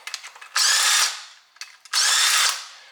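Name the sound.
power tool spinning off rear differential bolts on IS300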